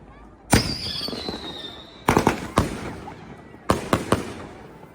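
Fireworks bursting outdoors during a 2024 display, loud booming cracks in three groups with a whistling rise, followed by quick crackling pops.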